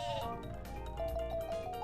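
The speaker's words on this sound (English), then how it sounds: "I'm going to use my Sleepy Sheep" Sheep bleating from the Sleepy Sheep item in the video game Paper Mario, repeated bleats carried over a steady layer of game music at moderate loudness.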